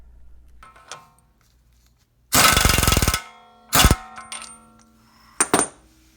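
Impact wrench hammering a CV axle nut on a Honda Odyssey during a passenger-side axle replacement, three loud rattling bursts, the first nearly a second long, the others shorter, close up with quiet gaps between.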